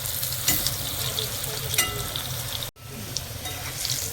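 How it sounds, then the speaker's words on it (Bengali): Thick-cut potato chunks fry in hot oil for a Bengali kalia, giving a steady close sizzle with stirring scrapes throughout and no talk. "আলুটা একটু ভেজে নেবো ভালো করে।"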